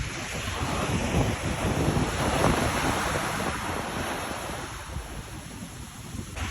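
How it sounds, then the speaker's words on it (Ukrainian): Steady roar of waves breaking with strong wind buffeting the microphone amid snow, air around 1°C, a continuous loud rush with no voices. "хвилі, вітер, сніг"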